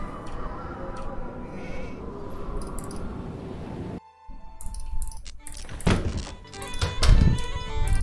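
Sheep bleating inside a barn in the Nancy Drew video game Haunting of Castle Malloy, a few short bleats after a dull thunk and a pause, mixed with soft clatter and background ambience.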